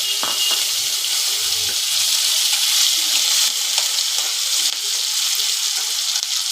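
Potatoes fry loudly in hot oil tempered with dried red chillies and black mustard seeds, giving a dense, continuous close sizzle with a few light stirring knocks near the start.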